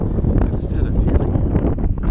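Wind gusting outdoors near water while fishing from a boat, a loud steady rumbling buffet across the microphone with faint rustling, and a voice briefly audible.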